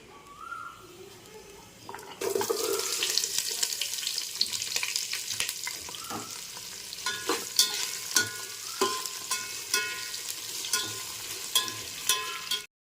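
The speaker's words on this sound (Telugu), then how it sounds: "మసాలాలు ఫ్రై అయిన తర్వాత ఇందులోకి ఉల్లిపాయ క్యారెట్ బంగాళదుంప టమాటా" Onion, carrot, potato and tomato being fried in whole spices for Muslim-style chicken biryani: a quiet start, then a loud, steady sizzle with repeated spoon scrapes against the pot, close up and with no talking.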